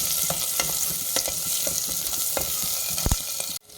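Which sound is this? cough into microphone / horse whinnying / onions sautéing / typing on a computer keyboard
onions sautéing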